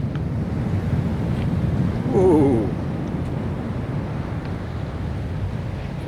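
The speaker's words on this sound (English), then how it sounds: "waves bashing their way in. Ooh, gosh, that's a big old wave." Big storm-driven ocean waves crash onto a beach amid a steady roar of wind buffeting the microphone, with one brief exclamation from a voice as a large wave breaks.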